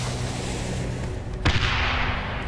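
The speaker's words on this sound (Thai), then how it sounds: "มันโยนระเบิดใส่วะ" A grenade goes off in the video game Dying Light: a sudden sharp blast with a short rumbling tail, cutting through a constant murky game background.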